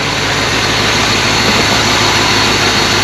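A 1978 Chevy C20 4wd pickup with a small block 350 V8 that runs poorly, idling close by with a steady, loud, heavy drone and no break in the sound.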